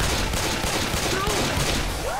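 Dense, overlapping gunfire from the Left 4 Dead 2 versus mode on the No Mercy campaign rattles continuously, with chaotic game noise and faint whistling tones mixed in.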